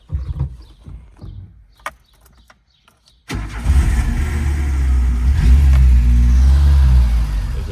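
A 1992 Ford Pampa with a 1.8 AP engine starts after a few faint clicks and a short hush, catching with a loud crank and settling into a steady, rough, close idle.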